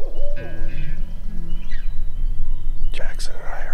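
An owl hoots from the woods behind a turkey hunter on a morning hunt, answering an imitation owl call; repeated low hoots sound amid faint whispered talk and outdoor ambience.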